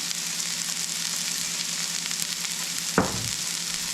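Spices such as cayenne pepper and garlic powder frying in a pan make a steady close sizzle, and a single sharp stirring scrape or clack lands near the end.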